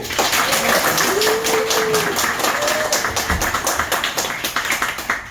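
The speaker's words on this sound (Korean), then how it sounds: "박수!" Attendees at a school alumni association board meeting clap together, a dense, even round of applause that swells and then thins toward the end.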